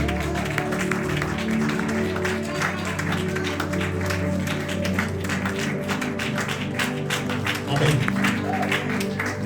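A church congregation rises to acclaim and praise God, producing a continuous dense wash of applause and clapping with a crowd murmur beneath, loud and sustained throughout with a brief swell near the end.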